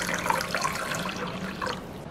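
A cup of water pours steadily into a rice cooker chicken and rice dish, a continuous close splashing and trickling with no talk over it.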